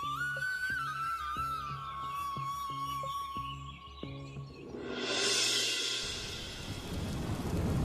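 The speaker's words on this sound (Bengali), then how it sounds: "আরে আনন্দ, এই ঝড় বৃষ্টির মধ্যে এত জোরে তোড়জোড় করে কোথা থেকে আসা হচ্ছে?" A cartoon thunderstorm with heavy rain: a dense wash of rain noise and a thundery roar swell in about halfway through, taking over from a melodic music bed and growing loud to the end.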